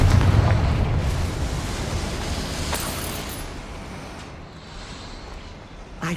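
A Confringo spell explosion in the Hogwarts Legacy video game: a loud, deep blast at the very start whose rumble slowly fades over several seconds, with a small pop near the end.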